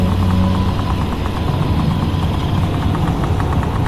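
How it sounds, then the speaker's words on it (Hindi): An old truck rolls by in an animated horror short, a steady low engine rumble with a faint rhythmic knock, close and even throughout, no voices. "तभी वहां से एक पुराना ट्रक गुजरता है जो उसी तरफ जा रहा है"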